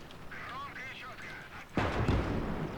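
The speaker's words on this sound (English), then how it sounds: "Now he's in range with the AT gun." Anti-tank gun in the Conquest game fires a single loud, heavy blast about two-thirds of the way in, followed by a rumbling tail, after a stretch of quieter game ambience with faint chirping tones.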